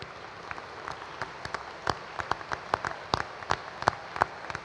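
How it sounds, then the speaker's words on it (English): Scattered claps from a convocation audience in a hall, sparse and uneven, rising from a few hands into light, intermittent clapping rather than a full ovation. "join me in a round of applause with gratitude for everybody in this room who loves and cares about you"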